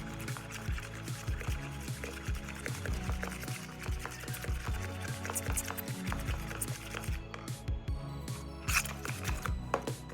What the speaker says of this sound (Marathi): तर अजून आपण त्याच्यात पाणी टाकायचं. थोडंसंच पाणी टाकायचं, जास्त टाकायचं नाही.